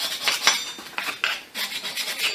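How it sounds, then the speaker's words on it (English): Rust and high spots are scraped off a brake hub on a 2003-2009 Kia Sorento, producing close, harsh metallic rasping strokes in an uneven rhythm, some sharper than others. "I'm going to get any rust and high spots off of this hub"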